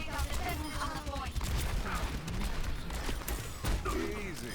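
Gunfire in the video game Overwatch, repeated shots and mechanical effects spread through the clip under excited talking and game sounds.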